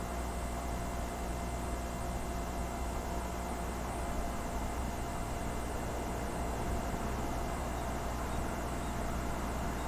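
Old United Airlines airliner at London Heathrow Airport, a steady broadband jet roar holding at an even, moderately loud level throughout, with no voices.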